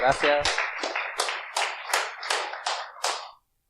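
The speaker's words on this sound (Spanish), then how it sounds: "recibámosle con un fuerte aplauso y que empiece el curso" A small audience claps at the opening of a Blender workshop, sparse, distinct hand claps in an uneven rhythm lasting a few seconds before stopping abruptly, close and fairly loud with no one talking.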